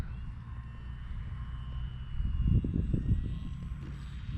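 A small X-Fly Glastar V2 RC airplane comes in for a landing on grass, its electric motor whirring softly at a distance, with a burst of bumpy rumbling thuds midway as it touches down and rolls.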